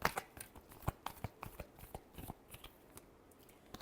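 Tarot cards shuffled by hand for an astrology reading, a quiet run of soft, irregular riffling flicks and light snaps that fills the whole stretch with no voice over it.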